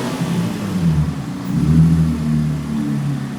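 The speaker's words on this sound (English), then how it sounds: "Keep in mind we still have the stock cats on the car and that makes the car sound a little less raspy than the usual 350Z sound." A Nissan 350Z with its VQ engine, a custom exhaust and stock catalytic converters revs close up, giving repeated throaty rises and falls in pitch that sound alone with no talk.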